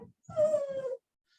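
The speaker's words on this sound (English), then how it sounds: "that was my dog who wanted to be let out." A dog whimpers to be let out, giving a single drawn-out, high-pitched whine about half a second long, close and fairly loud, with brief rustling before and after.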